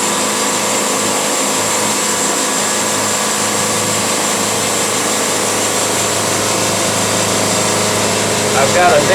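Woodmizer sawmill engine running steadily while sawing a walnut log, a constant loud mechanical drone with a whining tone that stays even throughout.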